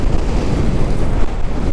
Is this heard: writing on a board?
no